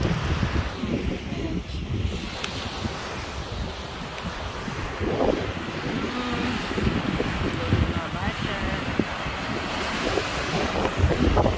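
Sea waves and strong gusting wind on a beach, a steady loud roar of surf with wind buffeting the microphone throughout, no speech.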